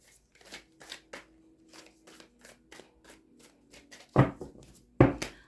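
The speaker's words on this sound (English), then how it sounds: "I'll give it one more shuffle." A tarot deck being shuffled by hand close by: a string of soft, quick papery flicks in a loose rhythm, then two louder slapping riffles near the end, alone without any voices.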